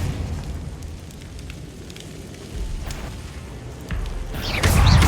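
Confringo spell blasts exploding in Hogwarts Legacy combat, a steady fiery crackle with a louder burst building near the end, no talk.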